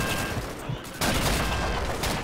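Dense automatic gunfire from the video game Call of Duty 2 rattles continuously in a loud, noisy battle mix with a brief dip before the firing surges again.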